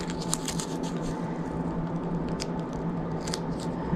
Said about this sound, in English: Grab a little pair of scissors here. And I'm going to make a little notch.